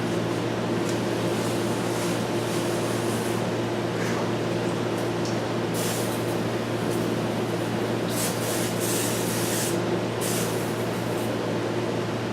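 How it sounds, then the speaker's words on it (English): A fine abrasive stone rubbed in figure-8 strokes across the steel surface of a Kurt DX6 6-inch machinist's vise, giving a steady, soft, continuous scraping hiss with no pauses and no talking. "Almost all the stones I've got are so fine abrasive that you're really not cutting anything unless there's an actual burr there"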